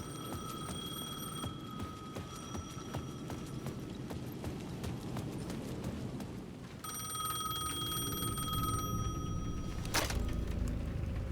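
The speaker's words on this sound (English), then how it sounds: "payphone at the edge of the plaza was ringing again." An old-fashioned payphone bell rings in repeated bursts over a busy background of clopping and ambient noise, with a sharp clang near the end, at the edge of a plaza in the video game Alan Wake 2.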